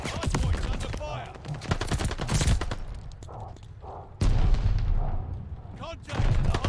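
Call of Duty gunfire around a hard point: dense bursts of rapid shots and heavy booms, loud and close, with a short lull before the firing resumes at full force, and voices talking over it.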